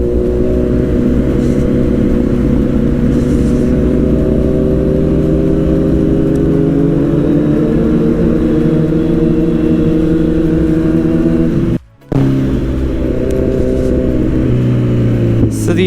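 Motorcycle with a full-system exhaust, engine droning loudly and steadily up close with gradual pitch shifts, a sudden brief cut near the twelve-second mark, then the engine resuming.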